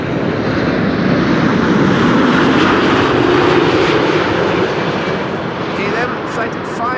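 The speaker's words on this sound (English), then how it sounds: "This is 7879 Dreamliner arriving from Cape Town in South." A KLM Boeing 787 Dreamliner arriving at Amsterdam Schiphol from Cape Town gives a loud, sustained broad jet engine roar that holds steady and eases slightly toward the end, with someone talking faintly over it.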